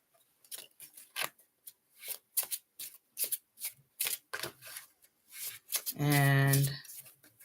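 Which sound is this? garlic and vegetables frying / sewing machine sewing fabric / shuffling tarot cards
shuffling tarot cards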